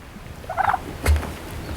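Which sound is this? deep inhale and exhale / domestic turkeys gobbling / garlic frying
domestic turkeys gobbling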